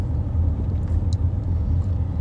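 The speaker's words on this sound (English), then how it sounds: "Ooh, nice Miata." A Mazda Miata passes on a neighborhood street, its engine a steady low rumble that holds close and fairly loud throughout, with no talk.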